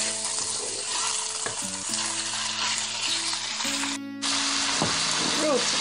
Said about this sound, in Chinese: 肉炒了一下，差不多了